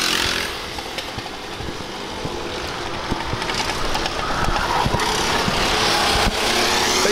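Go-kart engines buzz steadily through a regional kart championship race, a continuous loud droning whine from several karts competing on track, with no voices over it.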